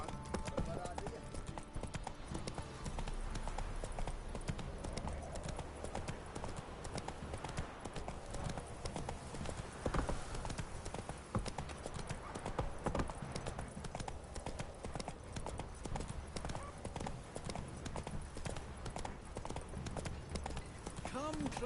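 Horse hooves clip-clop steadily through the Witcher 3 game world as the mount runs, a continuous rhythmic patter under game music, ambient sound and occasional character voices.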